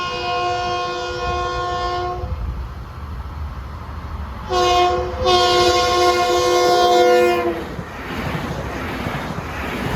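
A Long Island Rail Road M7 electric train approaches the Islip Avenue grade crossing on the Ronkonkoma Line, sounding two loud sustained horn blasts separated by a short gap, with rumbling wheels and passing-car noise underneath.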